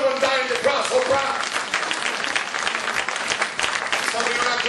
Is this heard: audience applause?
yes